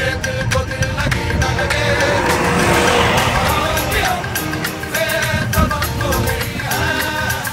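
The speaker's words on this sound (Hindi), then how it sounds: "हमारी गाड़ी अपने आप स्टार्ट होगी और हम निकल गए अब घर से" A car heading home from the Bilaspur Nalwadi fair, with engine and road noise running loud and steady throughout, layered with dense broadband clatter and music-like tonal streaks.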